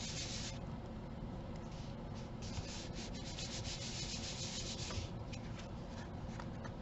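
Paper cardstock is rubbed firmly by hand to press down adhesive on a handmade card, producing a continuous close, dry scratchy rubbing with brief stronger strokes and no talk.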